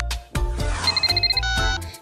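A phone rings as a call is placed, a warbling electronic trill pulsing rapidly amid music and sound effects, loud and close, with no talking.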